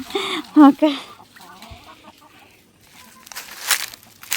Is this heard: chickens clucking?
yes